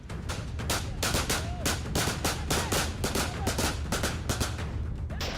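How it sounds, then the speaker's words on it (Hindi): Rapid gunfire rattles in quick, continuous volleys of sharp cracks from an Afghan militia unit firing from a village boundary wall, dense and loud, with overlapping shots from more than one weapon. "गांव की सरहद वाली मुंडेर से ताबड़तोड़ गोलियां दाग रहे ये अफगानी फौज की मिलिशिया टुकड़ी है"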